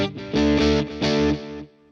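Stratocaster through a Fender Mustang LT25 on a Vox amp model with echo and reverb plays a few loud sustained chords with a chorus-like shimmer, then rings out as the echo tails fade.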